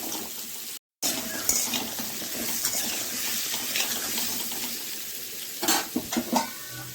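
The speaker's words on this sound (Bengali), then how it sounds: "এবারে কেটে রাখা সবজিটা দিয়ে দেবো।" Chopped vegetables dropped into hot oil in a Bengali kitchen with bitter gourd, five-spice seeds and dried red chillies, a loud sizzle after a brief silence, with stirring scrapes and a few clatters near the end.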